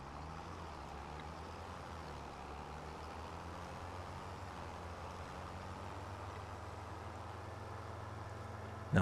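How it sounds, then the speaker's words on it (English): A tractor engine in Farming Simulator 25 rumbles steadily with a low drone, continuous and fairly quiet, with a slight rise at the very end. "Now I'll go hop back in the tractor."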